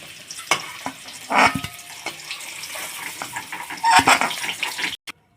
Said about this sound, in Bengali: এই যে ভেজে নিচ্ছি আলুগুলো